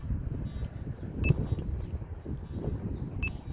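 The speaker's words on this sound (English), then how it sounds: "we want that to beep 3 times, and that gives us our ground balance" A Simplex Hot Rod metal detector emits short electronic beeps during ground balancing, one near the start-middle and another near the end, over steady wind and outdoor background noise.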